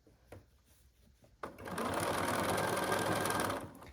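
A sewing machine stitches the last stretch of a whole-cloth minky quilt, a few soft clicks first and then a loud, close, steady whirring run lasting about two seconds before stopping.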